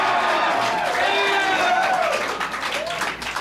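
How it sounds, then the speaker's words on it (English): A crowd at a live show, a 1984 event, cheers and claps in a sustained roar of voices and applause that fades slightly toward the end. "What a great crowd."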